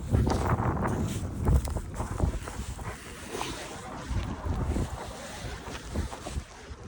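Strong outdoor wind buffets the microphone in continuous loud rumbling gusts that swell and ease throughout, with no voices heard.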